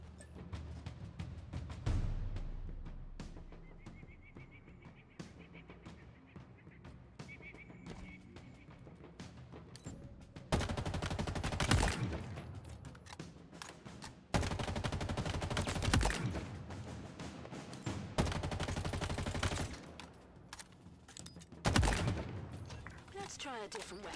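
Live rounds fire in the Halo Infinite training tutorial, coming as several long loud bursts of rapid gunfire in the second half after quieter shots early on, with a voice speaking at times.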